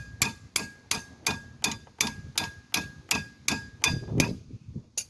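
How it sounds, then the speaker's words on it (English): Hammer blows ring against the back of a wrench while torquing brake hardware on a 2009 Ford Fusion during a rotor and pad job, about a dozen sharp metallic clangs in a steady rhythm, close and alone. "And this is the way I torque it. I hit the back of the hammer."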